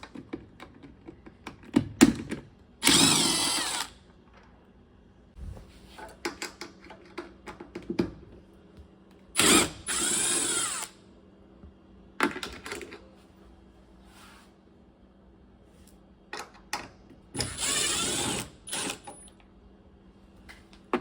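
A power drill removes screws from a panel on a Samsung washer, model WW22K6800AW/A2. Several loud whirring bursts a few seconds long are separated by quieter clicks and handling noise.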